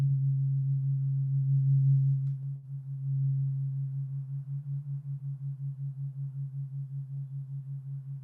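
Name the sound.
Acutonics tuning fork pinging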